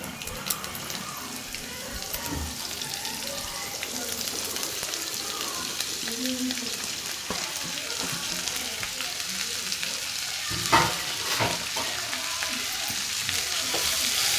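Chopped long beans sizzle and crackle steadily in a hot pan for a Kerala-style thoran, with occasional stirring scrapes and a brief louder clatter near the end, no talking heard.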